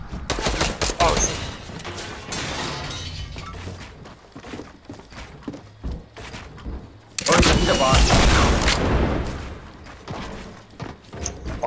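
Computer-controlled bots firing guns in a squad shooter game, heard as heavy volleys and rapid bursts in two loud clusters separated by sparser single shots, with a player's voice talking over the action.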